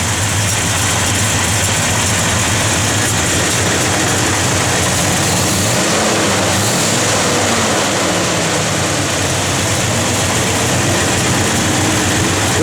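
A 1968 Chevrolet Chevelle SS big-block V8 idles loudly and close by, a steady deep rumble holding throughout with no voices.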